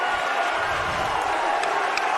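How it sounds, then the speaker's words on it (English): A high school boys basketball crowd roars steadily throughout, a dense wash of cheering and voices at a constant level with a few brief whistles or shouts poking above. "Listen to the crowd"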